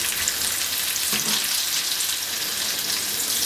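Potato cheese balls frying in hot oil over a medium-high flame give off a steady, close, dense sizzle with fine crackling bubbles throughout, and no one speaks over it.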